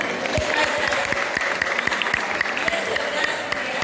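Students at a high school health cadre session clap together in a room, a sustained round of many hands with brisk, irregular claps lasting several seconds.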